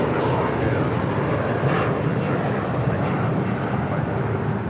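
Airliner departing LAX on runway 25 right, a steady broadband jet roar filling the clip at constant loudness, with radio talk faintly beneath.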